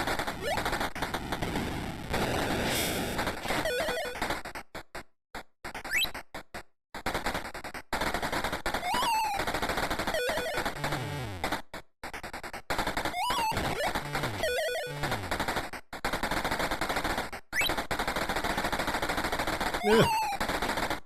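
Rapid machine gun fire bursts from an Atari video game, loud electronic rattling volleys broken by short gaps and chirpy game effects, continuous over the whole stretch.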